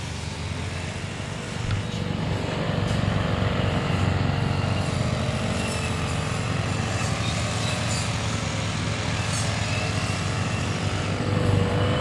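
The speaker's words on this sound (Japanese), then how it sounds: "今から2時間草刈りやります。" A grass cutter trims vegetation at a reservoir, its motor holding a steady, buzzing drone throughout, fairly loud and close, with no talking.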